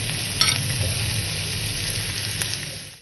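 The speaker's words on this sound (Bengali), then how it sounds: "এবার চিকেনটা আমি এর মধ্যে দিয়ে দিচ্ছি।" Chicken pieces stirred in a hot pan of frying ginger-garlic paste with cumin and coriander powder, giving a steady, close sizzle broken by scraping stirs, with no talk.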